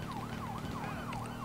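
A vehicle siren in the video game Grand Theft Auto wails, sweeping up and down repeatedly over a low engine rumble, steady and continuous.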